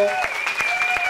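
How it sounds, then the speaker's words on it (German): Audience applause for bachata dancers Gabriel and Bego at a dance show in Tübingen, brief close clapping with a few distinct claps over a sustained musical tone. "Jetzt nochmal einen großen Applaus von Gabriel und Bego"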